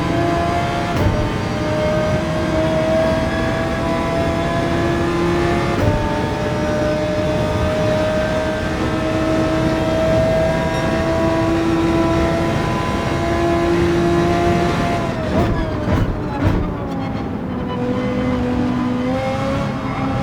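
Race car engines roar continuously around Road Atlanta in Gran Turismo 7, a sustained loud drone with shifting pitch as cars accelerate and change gear, a burst of revving and downshifts near the end.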